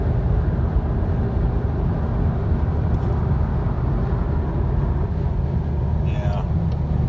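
A 2017 VW Passat SEL cruising at about 80, with a steady broadband road and wind roar heard from the cabin while someone talks over it.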